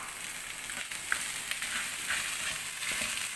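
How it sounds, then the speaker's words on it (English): Rice frying vigorously in a pan with vegetables for Caribbean fried rice, giving a steady, close, bright sizzle and hiss with occasional faint stirring clicks and no talking. "We have to fry it vigorously so that it doesn't stick on to the bottom of the pan."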